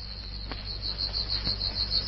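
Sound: katydid chirping in a cage

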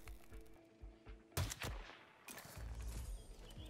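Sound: sniper rifle gunshot in the video game Hitman 3

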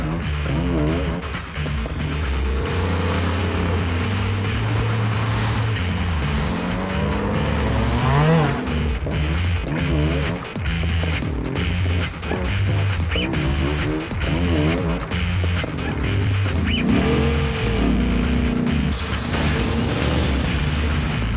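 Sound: racing cars with squealing, smoking tires

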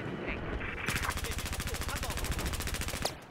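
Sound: gunfire in video game Battlefield 4

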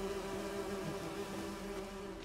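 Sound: bees buzzing in video game The Witcher 3: Wild Hunt

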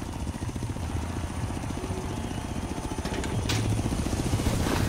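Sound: helicopter in the video game Forza Horizon 3

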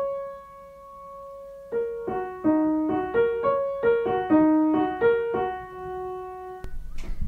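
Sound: piano playing one key at a time

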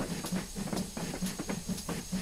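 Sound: steam train hissing in a train simulator video game, GWR Hall 4900 Class

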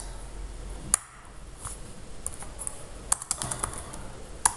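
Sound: typing code on a computer keyboard

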